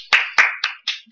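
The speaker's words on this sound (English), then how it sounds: "Applause." Five sharp hand claps of applause at a conference in quick, even succession, crisp and close with short decays.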